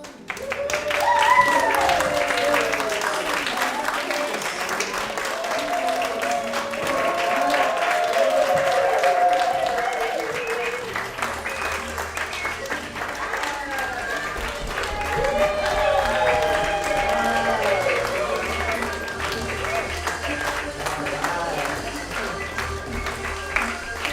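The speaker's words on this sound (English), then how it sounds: "you're welcome to stand and clap if you want to clap with them." At a Sunday church service, a congregation claps along in rhythm while music and singing carry on. The clapping stays steady for the whole stretch, blended under the voices and instruments.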